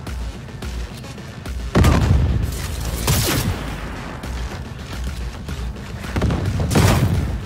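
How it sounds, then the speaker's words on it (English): Enemy rockets and explosive fire in the video game Cyberpunk 2077, a loud sustained barrage with heavy booming blasts near two, three and seven seconds over a constant rumbling din. "Oh, it's firing rockets at me."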